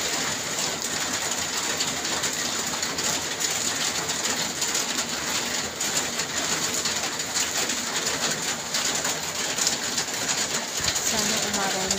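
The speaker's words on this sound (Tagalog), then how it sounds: "Lakas ng ulan guys." Heavy rain falls in a steady, dense hiss that never lets up, with birds cooing faintly through the downpour.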